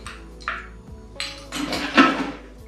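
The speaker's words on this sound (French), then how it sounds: "on va rajouter des glaçons parce qu'il fait bien frais" Ice cubes drop and clink into a glass for a strawberry Bloody Mary, several separate bright knocks and rattles over a few seconds, close up with no talking.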